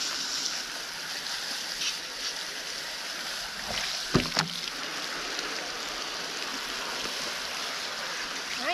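Water runs steadily over a sweatshirt being rinsed of bleach outdoors, a constant splashing hiss with a brief louder splash midway.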